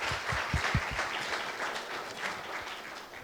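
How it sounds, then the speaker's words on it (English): An audience at a PGDM batch inauguration event applauds the dean with a dense, steady patter of many hands clapping, sustained for a few seconds. "Can we have a round of applause for Dean Ma'am?"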